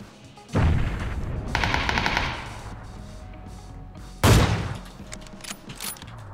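Gunfire in the battle-royale video game PUBG: a sharp burst opens, a rapid automatic volley follows, and a heavy close shot lands near the end, all loud against a quiet background with no talk.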